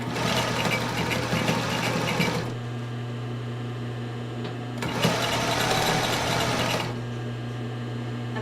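A home sewing machine stitching a sports bra runs in two steady whirring bursts of about two seconds each, separated by a pause with a low hum, close and clear with no talking.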